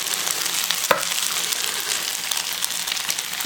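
Eggs fry in a pan of Spam hash with a loud, continuous sizzle and crackle, and a single sharp knock near the start as an egg goes in.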